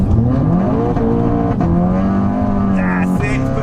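A car with a TFSI engine accelerates hard, the engine note climbing loudly and continuously with a brief dip at a gear change, close and in-cabin, with someone talking over it.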